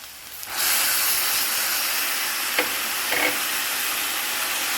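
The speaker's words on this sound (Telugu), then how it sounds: "ఇప్పుడు దీంట్లో టమాటోస్, తరిగి పెట్టుకున్న టమాటో ముక్కలు వేద్దాం." Chopped tomato pieces hit hot frying onions and ginger-garlic paste, setting off a steady broadband sizzle and hiss that rises suddenly and holds throughout, with a couple of brief scrapes or clinks partway through.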